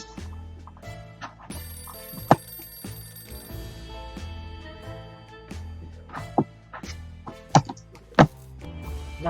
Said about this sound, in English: when suddenly a phone started ringing from somewhere outside